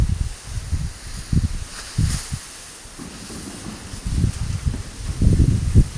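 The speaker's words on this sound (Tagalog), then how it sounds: "mahangin eh. Epekto ng bagyo yan." Typhoon wind buffets the microphone in low, rumbling gusty surges that rise and fall throughout, with a brief hiss in the middle.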